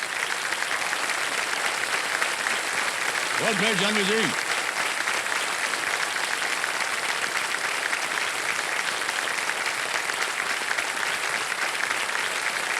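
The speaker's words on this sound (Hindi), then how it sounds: "ताली बज जाए इनके लिए।" A studio audience on a televised quiz show claps in sustained, dense applause that fills the whole stretch, while a host's voice speaks briefly over it.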